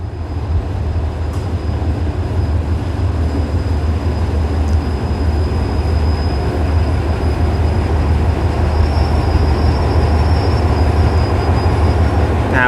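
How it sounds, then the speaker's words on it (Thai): A train hauled by Hitachi locomotive 4519 arrives at Ban Takhli station on a double-track line, a loud, steady rumble of rolling wheels with faint squeals, continuous and close, with no talking. "มาด้วยหัวรถจักรฮิตาชิสุดยอด 4519 นะครับ"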